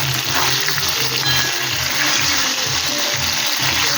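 Food frying in a pan over a high gas flame with salt added, a steady crackling sizzle running continuously at close range, with no talking.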